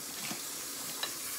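Cream cheese Sprite pound cake batter being mixed by hand in a bowl, giving a soft, brief stirring swish over low steady background noise, close but quiet.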